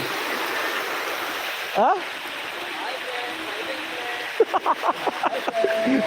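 The Kushasthali river rushes in a steady, broad hiss of flowing water, with voices calling and shouting over it now and then.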